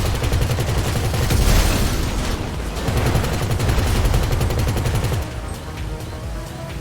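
Heavy, nearly continuous gunfire in GTA V, loud bursts of rapid shots stacking into a close, chaotic barrage that eases slightly near the end.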